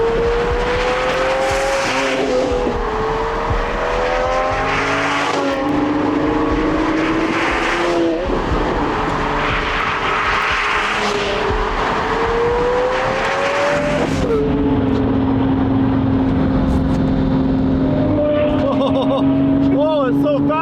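A twin-turbo Lamborghini Murcielago SV accelerates hard, its engine rising in pitch through several gears with brief shift breaks, loud and close from inside the car, with excited voices over it.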